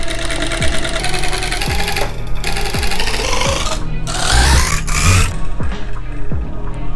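Sewing machine stitching a straight line, its fast motor-driven needle chatter running steadily throughout, close and loud, with brief pauses and soft handling knocks between bursts.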